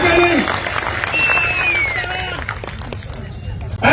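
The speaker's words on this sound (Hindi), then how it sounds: "तालियां बजाइए इनके लिए" Audience applauding at a political rally in Maharashtra, a sustained, loud wash of clapping mixed with crowd noise and cheering, with voices talking over it throughout.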